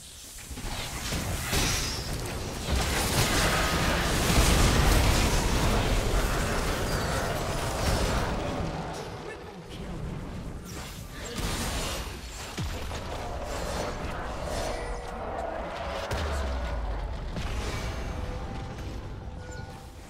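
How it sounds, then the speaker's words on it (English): Tristana's fireworks-style explosions in League of Legends: a dense, continuous wash of booming blasts, crackles and whooshes, loud throughout with a slight lull midway and no talk. "Wanna see the fireworks?"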